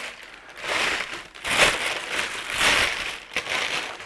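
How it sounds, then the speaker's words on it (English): A plastic baking bag crinkles and rustles in bursts as it is pulled over bread dough for French bread, close and fairly loud with uneven crackling swells. "So I'm using my trusty baking plastic bag."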